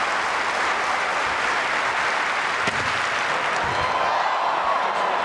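Steady applause from a large stadium crowd at the Commonwealth Games men's long jump, building for an athlete's first attempt; dense, continuous clapping fills the whole stretch with no voices over it.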